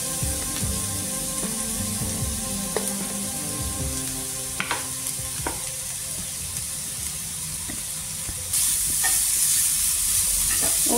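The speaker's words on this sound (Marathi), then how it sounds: "त्याला आपण थोडंसं फ्राय करून घेणार आहोत" Grated vegetable frying in a pan for aloo chaat katori: a close sizzle broken by scraping and tapping from stirring, with the hiss growing brighter and louder toward the end.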